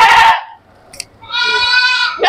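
Beetal goats bleating loudly and close by, two distinct wavering bleats separated by a brief pause, clearly audible on a farm with no talk over them.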